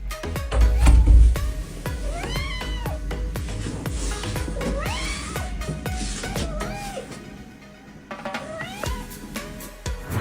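A cat meows repeatedly in a series of clear, rising and falling calls spread across the clip, close to the microphone over soft background noise.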